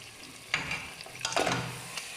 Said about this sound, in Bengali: তো উটের গোশটা দিয়ে দিতেছি, এটা আপনারা দেখুন।